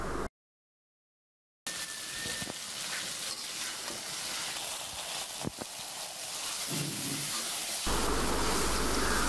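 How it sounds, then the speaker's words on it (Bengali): Chicken liver is stir-fried with spices, producing a steady sizzle with scrape and clatter of stirring after a short silent gap, growing louder toward the end; no speech. "এখন সবগুলো কলিজা দিয়ে নাড়াচাড়া করে 5 মিনিট কষিয়ে নেব"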